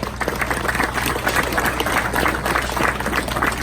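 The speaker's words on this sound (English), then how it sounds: "Let's give her another round of applause" Crowd applause for a young girl after her hog showmanship class at a livestock show, a steady dense patter of many hands sustained throughout at moderate volume.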